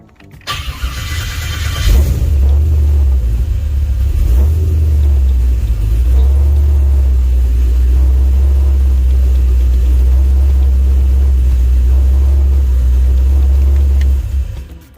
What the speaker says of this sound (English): Okay, and I'll only shut it off so we can make sure I didn't screw something up under the car